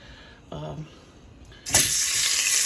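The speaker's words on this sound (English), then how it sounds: "And I'm cooking it in leftover bacon grease." Meat frying in leftover bacon grease, seasoned with lemon pepper, with a loud steady sizzle bursting in after a quieter stretch and holding close and bright to the end.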